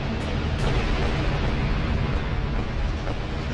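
Sustained rumbling barrage of flak cannon fire and explosions in a space-combat video game, a dense continuous roar with a couple of sharper bursts near the start, loud and close throughout.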